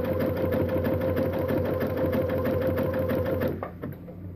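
A sewing machine stitches fabric along an outside curve of an owl pot holder, a loud rapid steady whir up close that stops near the end.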